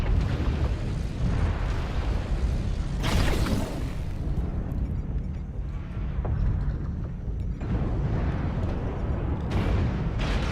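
Video game airstrike explosions pound in a continuous heavy rumble, with bursts of louder blasts early on and again near the end, dense and close with no voices.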